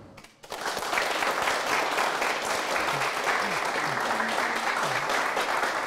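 A large audience applauds two missionaries at a Korean Christian talk concert, a dense, steady wash of clapping that starts abruptly after a brief silence and holds loud throughout, with faint voices underneath.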